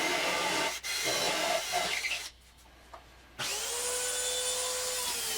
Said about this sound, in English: We drill from the back side so we don't get splintering and tear out.